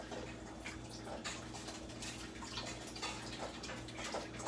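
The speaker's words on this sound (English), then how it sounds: "And I like to pour until the soup looks creamy enough for me." Liquid pours into a pot of New England clam chowder, a soft continuous splashing and trickling with small drips and clicks over a low steady hum.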